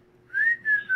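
A person whistles a rising, sustained tone, then two more shorter whistled notes after a brief gap, fairly close and clear over a quiet background.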